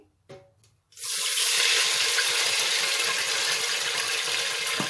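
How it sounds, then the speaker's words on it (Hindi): Water pours steadily and forcefully into a pot for Pakistani sweet rice with cardamom, a continuous close rushing splash after a few light clinks. "तो अब डालेंगे पानी"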